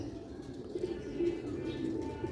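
Batera pigeons coo softly in low repeated murmurs close by, with faint background noise and no clear talk.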